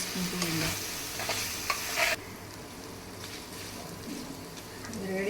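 Pepper chicken with masala powder and pepper stir-frying dry in a pan, a steady close sizzle under scraping spatula strokes, brighter and busier for the first two seconds, then a softer, even fry.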